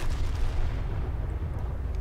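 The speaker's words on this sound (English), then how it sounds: "two more massive explosions in the center of Rebellion there" Massive explosions rip through the center of a warship during a battle in the From the Depths video game, a dense, continuous low rumble of booms that stays loud throughout with no speech.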